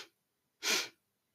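A single soft nasal inhale during a guided breathing exercise, quiet and close, alone in silence after a brief trailing breath.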